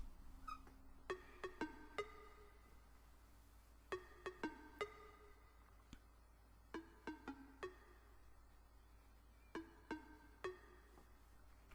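The Synth 004 preset of an Anarchy Audioworx synth plugin plays short plucked, bell-like tonal notes in repeating clusters of three or four, evenly spaced and fairly soft, with no voice.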